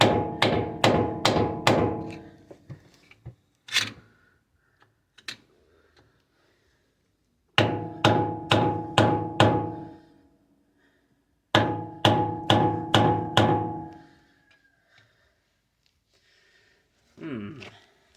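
An air hammer works on a Dana 44 axle U-joint in three loud, close bursts of rapid hammering, separated by pauses with faint clanks and shuffling.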